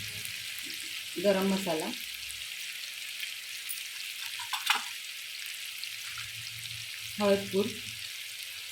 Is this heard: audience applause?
no